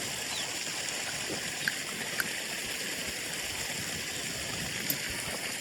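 Irrigation water flowing through a sugarcane field, a steady soft rushing and trickling that stays even and fairly quiet, with a few faint clicks on top.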